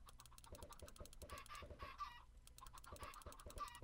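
Chickens in Minecraft cluck in short, rapid bursts, quiet and fairly close, with a few brief breaks between groups of clucks and no talking.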